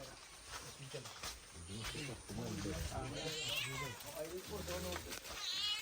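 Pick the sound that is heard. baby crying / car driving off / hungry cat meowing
hungry cat meowing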